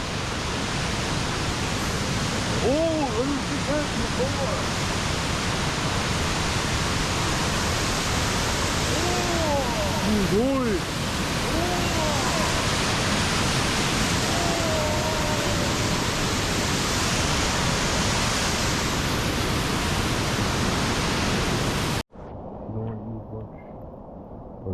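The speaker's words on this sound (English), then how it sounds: "Waterfall. Waterfall." A waterfall on a Mount Defiance hike roars as a loud, steady rush of broadband water noise that fills the scene. A few brief voices are heard over it, and the rush cuts off abruptly near the end.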